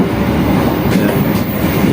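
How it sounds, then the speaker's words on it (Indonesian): A fast freight train thunders past close by in rural countryside beside rice paddies, a loud, continuous rumble with steady clattering wheels and no voices. "ini kereta api barang, wah laju"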